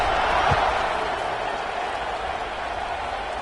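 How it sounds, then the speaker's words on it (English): A football stadium crowd buzzes with a dense, steady roar of cheering and chatter at a college game, broad and continuous throughout with one brief thump near the start. "this crowd is buzzing after that last score."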